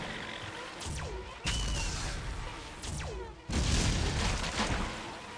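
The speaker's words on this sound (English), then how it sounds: "Even a fucking fusion explosion cannot get rid of these jackasses." A fusion explosion in System Shock 2 sets off deep booming blasts with whooshing debris, two heavy surges roughly two seconds apart rolling over a steady background hum, with no talking.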